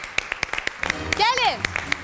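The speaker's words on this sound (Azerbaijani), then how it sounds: "Alqışlar da gəlsin uşaqlar" An audience claps for children in evenly spaced, rhythmic claps, about one every fifth of a second, while a lively voice rises and falls over them.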